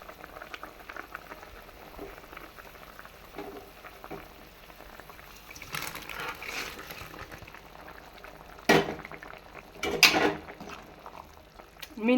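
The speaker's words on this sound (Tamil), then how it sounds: "இந்த மாதிரி ஃபுல்லாக கொதிக்குதுங்களா?" Okra curry bubbling in a pot on the stove, a steady low simmering burble with occasional louder pops and clinks near the end.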